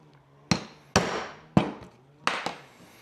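Hammer blows on a chunk of wood during a lawn mower repair: five sharp, loud strikes spaced irregularly across a few seconds, each with a brief ringing tail, over a faint steady hum.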